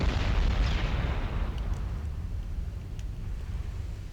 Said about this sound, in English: Oh wait, something exploded.